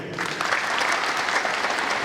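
Brief burst of audience applause at the closing ceremony of a badminton tournament, dense steady clapping from a crowd.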